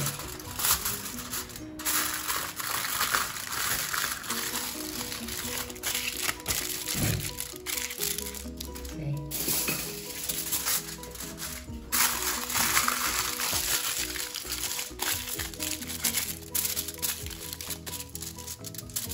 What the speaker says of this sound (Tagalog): and then takpan natin ng foil